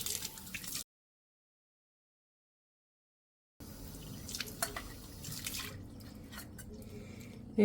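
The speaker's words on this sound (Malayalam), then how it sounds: "ഞാൻ വെള്ളത്തിലൊഴിച്ച് കഴുകാൻ പോവാണേ" A brass lamp rinsed with water after scrubbing with baking soda, soft splashing and dripping with a gap of silence, then trickling and scattered drips, close and quiet.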